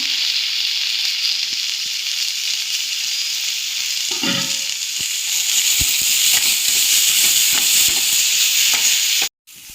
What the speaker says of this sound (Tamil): ஒரு தக்காளி அரிஞ்சு ஆட் பண்ணியிருக்கேன் தக்காளி வதக்கிறது